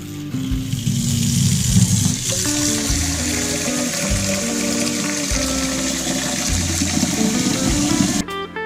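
Water pours steadily from a half-gallon jug into a beer-brewing boiling pot, continuous splashing and gurgling for several seconds, then cuts off near the end.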